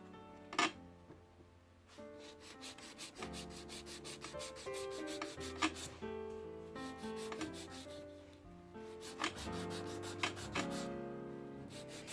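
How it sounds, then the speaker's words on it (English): A nail file rubs rapidly over an acrylic tip overlay, close and continuous scratchy strokes with a few sharp louder scrapes, no speech. "So I'm now going to start filing."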